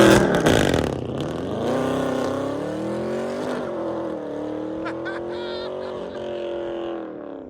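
A Dodge Challenger Scat Pack 392 with a 6.4L HEMI V8 and 6-speed manual gives a loud, close rev through an aftermarket exhaust, a sharp blip falling into a steady, deep rumble that holds for several seconds.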